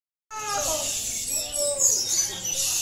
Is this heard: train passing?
no